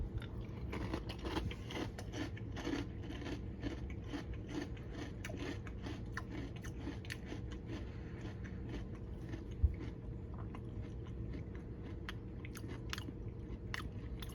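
Close, steady crunching of Transformers Chocolate Crunch cereal being chewed, a continuous dense mouth-level crackle with no talking, one brief sharper click near the end.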